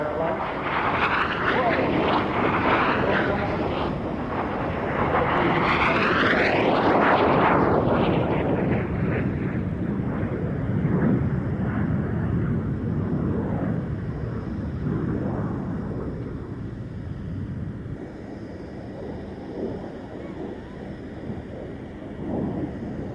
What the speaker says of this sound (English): The silver aircraft from Kennet Aviation turning in now